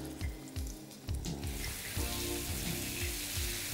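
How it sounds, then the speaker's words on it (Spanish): Floured hake frying in very hot oil, a dense, crackling sizzle that swells louder partway through and holds steady, with a few low knocks early on and no voices. "La introducimos en el aceite bien caliente"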